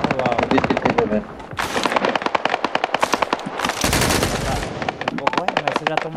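Rapid bursts of automatic gunfire crackle loudly and repeatedly in the PvP video game Badlanders, with brief pauses between volleys and a voice speaking briefly underneath.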